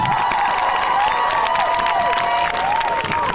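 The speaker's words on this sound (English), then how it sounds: "let's give the elders a round of applause for walking all this way with us" A crowd at a Black Lives Matter march cheers and claps steadily, with whistles and shouts rising over the continuous roar for a few seconds.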